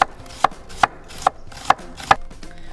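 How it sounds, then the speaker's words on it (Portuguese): A knife slices an onion into thin half-moons on a board, about six crisp, close cuts at a steady, unhurried rhythm, with no voices, while preparing a monkfish cataplana. "Portanto, corta a cebola em meia lua."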